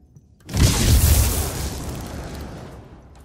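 A sudden loud booming blast from a fireball spell in King Arthur: Knight's Tale erupts after a brief quiet, then rumbles and crackles as it slowly fades.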